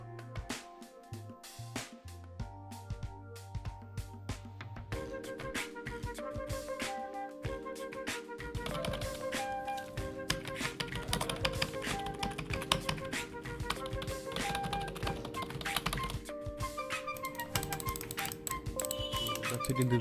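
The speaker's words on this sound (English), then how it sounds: "So I will show you the clicking sound of the product." An HP wireless mouse and keyboard combo gives a long run of quick, light clicks and key taps, close and fairly quiet, with a faint tonal background underneath.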